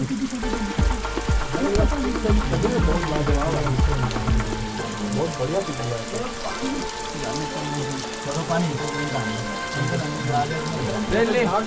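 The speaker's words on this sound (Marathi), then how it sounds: "प्रचंड असा पाऊस चालू झालेला इथं" Dense, steady monsoon rain hisses throughout at Tikona Fort, loud and continuous, with other background sounds and murmuring mixed in.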